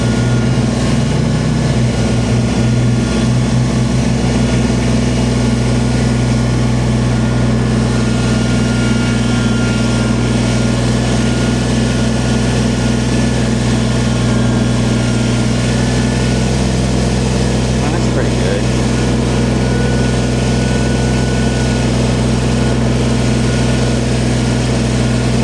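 Kubota BX sub-compact tractor engine running steadily, a loud, continuous low drone with a constant idle-like hum throughout, moving a dump trailer, with no talk.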